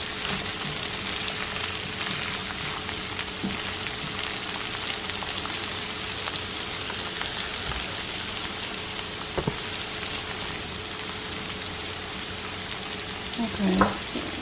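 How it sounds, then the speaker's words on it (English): Mushrooms sizzle and fry in a hot pan for Southern cube steak and gravy, a steady broadband crackle with faint pops throughout and a brief clatter near the end. "so I'm gonna turn it up a little more and put my mushrooms in"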